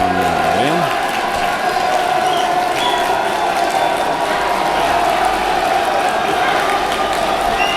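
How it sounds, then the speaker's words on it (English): A crowd at a high school state championship soccer match, sustained loud cheering and applause rising into a roar, with a commentator talking over it. "Crowd comes alive."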